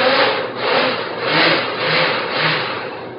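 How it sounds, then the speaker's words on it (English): A blender giving quick pulses to a coffee drink mixture, a steady loud whir that swells and dips in several short surges over a few seconds, with no talking. "you'll want to make sure that you do some quick pulses first just to make sure that you get the coffee going."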